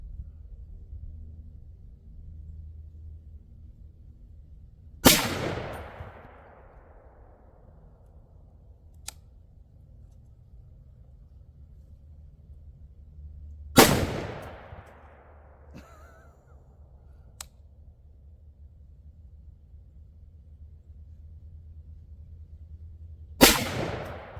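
Ruger SFAR rifle firing Winchester PowerPoint ammunition outdoors, three sharp loud shots spaced about nine seconds apart, each with a short decaying echo over a quiet background.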